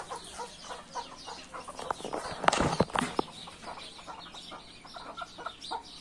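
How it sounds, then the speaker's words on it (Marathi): Hens and small chicks cluck and peep in a farmyard flock while pecking at rice, a steady scatter of short close calls with a busier, louder burst midway. "हे बघ किती कोंबड्या तिथं. कोंबड्याच कोंबड्या, पिल्लेच पिल्ले"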